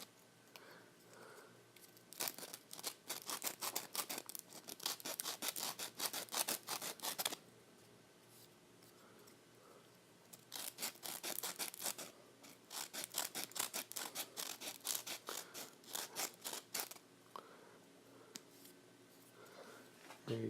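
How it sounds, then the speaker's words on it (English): Small radial sanders working a fidget spinner by hand, giving bursts of dense, scratchy abrasive rubbing that run for several seconds, pause in quiet gaps, then resume, close and fairly soft. "I've got these little radial sanders right here"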